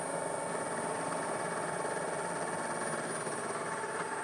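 Steady, dense mechanical roar of a milling machine cutting with a 16mm carbide end mill at 1000 rpm, a constant high whine over broad grinding noise with no pauses.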